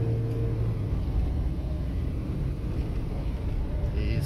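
A car in third gear accelerates hard during a driving lesson on a 60 km/h road, giving a steady low engine rumble with road and wind noise throughout.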